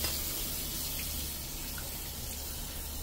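Water running from a tap to rinse a Scrub Daddy sponge, a steady close hiss and splash of flowing water that continues without pause, with no speech.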